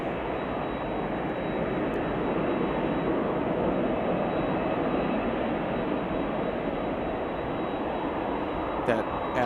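An American Airlines jet roars at Chicago O'Hare Airport, a steady, loud engine rumble sustained throughout, near and unbroken.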